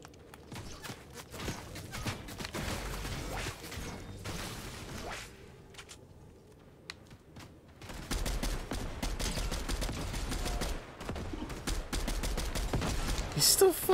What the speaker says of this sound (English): He's still fucking sniping.